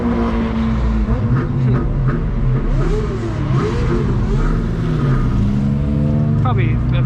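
Cars race past on a street, their engines roaring loud and close as they rev and accelerate, with the sustained drone rising and falling over several seconds.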